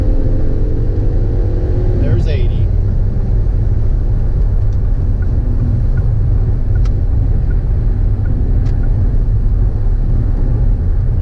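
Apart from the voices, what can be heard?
Ford 500 car accelerating onto the freeway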